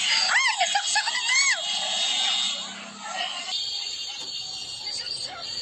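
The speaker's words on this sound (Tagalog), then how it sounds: "Sigaw na sigaw si ate." A woman screams loudly and close by, several high, wavering shrieks in the first second and a half, followed by steady crowd and street noise during a San Juan water-dousing festival where someone was stabbed.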